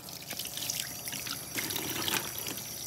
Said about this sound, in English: All right, just light cold water.